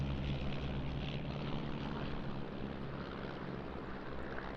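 Four propeller display aircraft dive in at an airshow, producing a steady, fairly distant engine drone that holds an even level throughout, with no speech heard.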